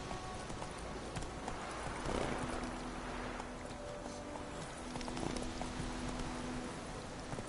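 Roach, a horse in a PS4 video game, gallops with steady hoof clatter over a constant noisy outdoor backdrop, moderately loud and continuous throughout.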